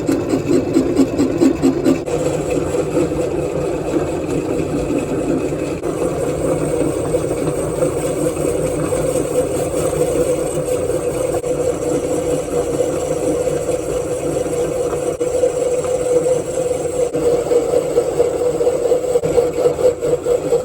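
A metal lathe facing the end of a cut-down bolt held in the chuck, a steady loud mechanical hum with a faint cutting rasp that continues evenly and close throughout, with no talking.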